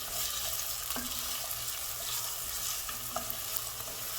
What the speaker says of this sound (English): once it gets heated up, I'm adding my garlic and onion